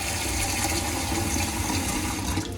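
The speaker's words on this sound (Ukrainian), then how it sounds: "Запускаємо воду, можемо брати чим побільше." Tap water runs steadily into a Beaba Babycook Neo steamer blender under test after a repair, a continuous close rushing splash that holds even and loud, then tapers slightly at the very end.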